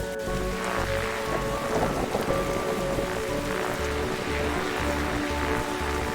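Steady rain with a low rumble of thunder in the rooftop night scene of the detective video game The Darkside Detective, a continuous, fairly loud wash of rainfall with deep thunder swells underneath and no talking.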